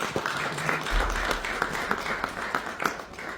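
A small audience claps at a Congolese cultural gathering, scattered uneven hand claps with a few sharp louder strikes, fairly close and moderately loud throughout.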